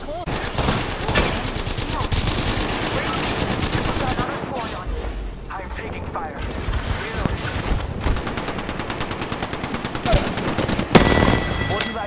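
Sustained automatic gunfire and rapid shots in the battle royale game Apex Legends, dense and loud throughout with bursts, a few booms and impacts layered over busy in-game combat noise.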